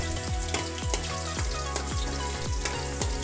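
Garlic sautéing in a pan as the first step of pinakbet, giving a steady close sizzle with a regular rhythm of stirring scrapes about every half second, with no talk.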